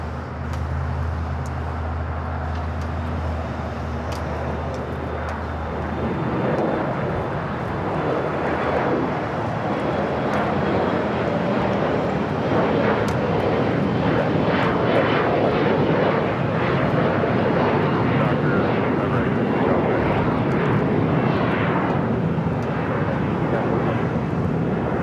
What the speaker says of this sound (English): Taking off, heading to Vegas, Alaska Horizon Flight 2183.